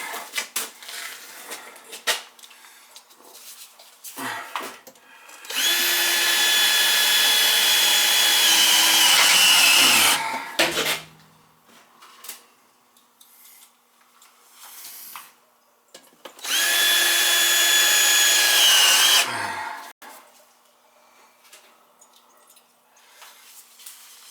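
A power drill drives screws into the smoke pipe joints of a 40-gallon gas water heater, two long sustained whirring bursts of about five seconds each, close and loud, with quieter handling clatter between them.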